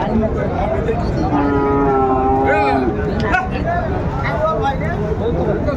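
Cattle, bulls raised on a farm ahead of the Eid sacrifice season, give a drawn-out moo amid a busy, noisy background, with people talking throughout.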